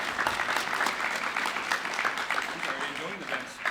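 An audience claps throughout an Earth Day awards ceremony in a steady, dense round of applause that carries a few faint voices mixed in beneath it.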